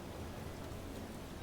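Steady rain falls in the video game Space Engineers, a dense, even hiss that continues without a break for the whole short stretch, with no voices over it.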